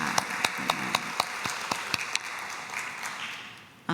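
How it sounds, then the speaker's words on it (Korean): A Korean church congregation claps during a sermon service, sharp rhythmic claps at a quick even beat giving way to a softer scattered patter that fades, ending with one loud knock. "우리 그 하나님께 영광의 박수 한번 보내드렸습니다."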